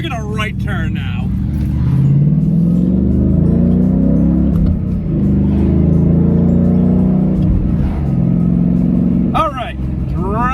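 A 2014 Ford Mustang GT driving through a right turn, its engine a steady low drone from inside the cabin with a brief rise in revs, while people talk over it.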